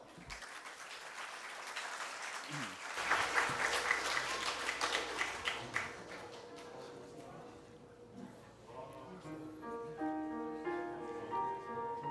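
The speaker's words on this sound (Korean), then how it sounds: "다 같이 큰 박수로 모셔 볼까요?" A church audience gives warm applause to welcome a five-member praise team onto the stage. The clapping swells and then fades as quiet music begins underneath.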